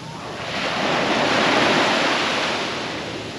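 Ocean waves at Batu Ferringhi Beach in Penang, Malaysia, a single broad wash of surf swelling and fading nearby, loud with some wind noise.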